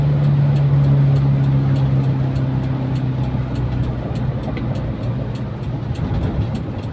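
Toyota Kijang Kapsul with a carburetor engine running, a loud, steady low rumble with a droning hum that eases slightly over several seconds, heard close and without talk.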